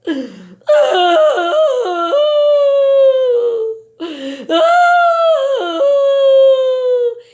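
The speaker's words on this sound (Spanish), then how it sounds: "Comenzó a emitir tristísimos aullidos" Two long, mournful dog howls, each rising then sliding down in a drawn-out wail, loud and close with a brief pause between them.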